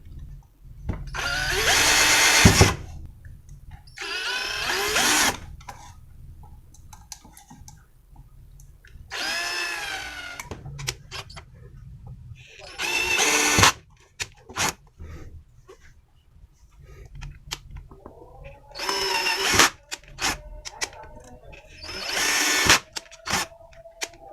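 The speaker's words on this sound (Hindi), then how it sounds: "आप इस वक्त सुराख करते हुए एक दफ़ा फॉरवर्ड चलाएं ड्रिल को, ये देखें।" Electric drill boring holes into a microwave oven touchpad keypad, several separate whining bursts of a few seconds each with quiet gaps, near and loud, one burst rising in pitch.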